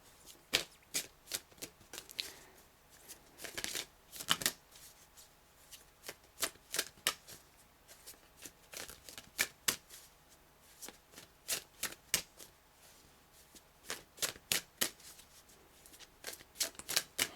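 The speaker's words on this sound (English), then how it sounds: "I'll do a few more shuffles" Tarot cards are shuffled repeatedly, crisp riffling bursts in an uneven rhythm, close and fairly quiet, with no speech.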